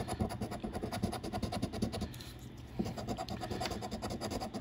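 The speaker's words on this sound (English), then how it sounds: "your coin scratches so smooth, man." A coin scrapes across a California Lottery scratcher ticket in quick, continuous raspy strokes, close and fairly quiet, with a short lull partway through and no speech.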